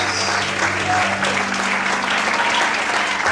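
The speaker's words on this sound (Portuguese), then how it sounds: "Será que você pode aplaudir e exaltar o Senhor por isso?" A church congregation applauds, a dense steady wash of many hands clapping at close range that holds for a few seconds, with faint voices mixed in.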